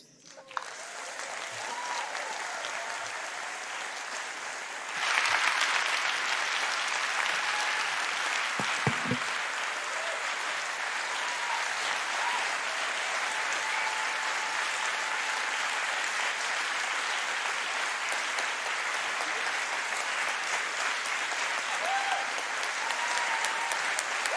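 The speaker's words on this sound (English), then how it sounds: "I hope you could hear all the applause in the hall." Sustained applause from a large theatre audience fills a hall at a theatre awards event, steady and continuous with a slight swell partway through, no voices over it.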